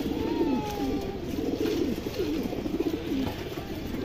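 A silver female pigeon gives a string of low, rolling coos, fairly close and steady, with no talk over it.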